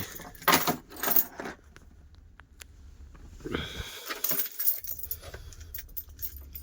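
Keys jangle loudly and close by in several metallic bursts while a new Volvo truck is being started, with rustling and handling noises between the jingles and no speech.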